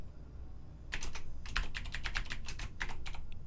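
Quick bursts of typing on a computer keyboard in a quiet room, irregular clusters of clicky keystrokes over about two and a half seconds with short pauses between runs.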